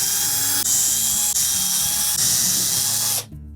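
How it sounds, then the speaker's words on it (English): A power driver whirs steadily as it backs out hex head retaining screws from a Whirlpool refrigerator cabinet, a high continuous spin with brief dips between screws before cutting off abruptly. "then we can remove the 4 retaining screws. These are typically a 3/8 hex head screw."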